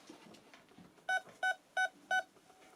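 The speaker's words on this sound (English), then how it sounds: "4 beeps means that the batteries are good." A metal detector gives four short, clean electronic start-up beeps in a steady rhythm, signalling good batteries, close and clear, over faint background noise.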